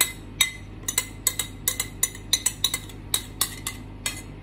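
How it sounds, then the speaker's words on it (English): Utensils clink sharply against a bowl while fire noodles are mixed, a quick irregular run of close metallic taps and scrapes with no talk. "I think it's easier to mix with a bowl"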